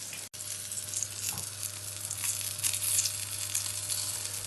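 Steak searing in butter and rosemary in a hot pan gives a steady, moderately loud sizzle and crackle that runs continuously with no one talking.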